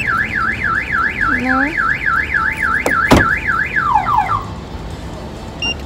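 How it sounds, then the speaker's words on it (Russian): A home security alarm is triggered when a door is opened without disarming it, giving a loud, rapidly warbling siren that cycles steadily for several seconds, then sweeps down and cuts off, with a sharp click midway and a brief word spoken. "Блин, я забыла снять сигнализацию и открыла."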